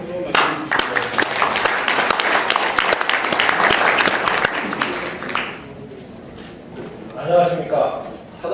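Audience applause welcoming Cho Bong-gu, chairman of the Korea Enterprise Bank Support Association, at a policy meeting with small-business owners; dense clapping for about five seconds fades into room murmur, with a short swell of clapping and voices near the end.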